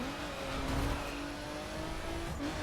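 A Nissan GT-R R35 in the racing game The Crew accelerates hard, its engine revving loudly with a steady roar and faint tire noise, no voices over it.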